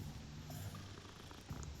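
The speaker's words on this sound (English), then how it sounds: "Pet the cat while we get a chance." A cat in Hogwarts Legacy purrs steadily while being petted, a faint, low, continuous rumble with no talk over it.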